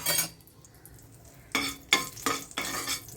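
A torn bay leaf and a dried red chili hit hot cooking oil and sizzle for a Bengali eggplant bharta, with spatula scrapes and bursts of crackling frying, close and moderately loud, no voices.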